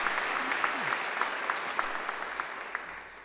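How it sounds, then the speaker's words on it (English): Sustained audience applause fills a graduation ceremony hall, a dense steady clatter of many hands with a few sharper individual claps standing out, gradually tapering toward the end. "They deserve a great round of applause too."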